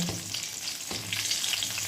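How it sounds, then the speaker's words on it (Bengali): Eggplant slices fry in a pan, giving a steady, quiet sizzle with faint crackles and a couple of soft stirring knocks, with no voices. "বেগুন ভাজা হচ্ছে"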